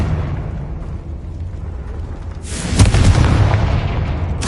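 A Confringo blasting spell explodes in the Hogwarts Legacy video game, a sudden loud burst partway through that rolls into a sustained, rumbling roar over steady game background noise.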